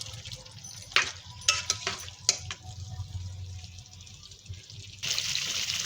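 Fried kofte being stirred into cooking masala, with scattered scraping and clinking stirring strokes over a soft sizzle, followed by a louder hiss near the end.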